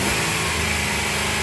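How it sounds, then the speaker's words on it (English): A GM car's engine is raced during oxygen sensor testing, giving a loud, continuous, close engine roar that holds steady throughout with no voices. "Someone race the car up, please."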